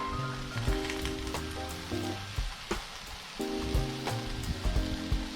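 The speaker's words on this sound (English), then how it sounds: "I'm going to take a tortilla, I'm going to completely fry it off" A tortilla frying in oil gives a dense, continuous close sizzle with crackling pops throughout, over steady low tones in the background.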